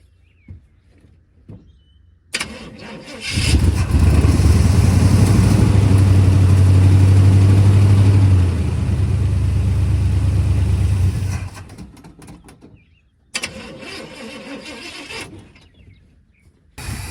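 A 1978 GMC truck engine, unrun for 17 years and with a failing fuel pump, cranks and catches, idles loudly with a rough rumble for several seconds, then cuts out before cranking again.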